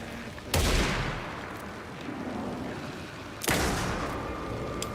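Two sharp, loud gunshots crack about three seconds apart in Alan Wake 2, each with a ringing tail over a low ambient background, no talk.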